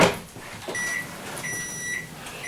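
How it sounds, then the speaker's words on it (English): A microwave oven runs while heating White Castle sliders, giving a steady close hum with a thin electronic whine that comes and goes in several short stretches. "throw it in the microwave for a couple more minutes"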